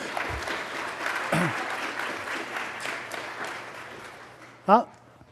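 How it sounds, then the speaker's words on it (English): An audience at a scholarship awards event applauds in a steady wash of clapping, with a few voices calling out and a brief loud cheer or whoop near the end. "you can give a round of applause for that"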